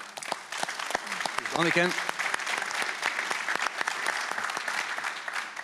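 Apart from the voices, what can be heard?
audience applause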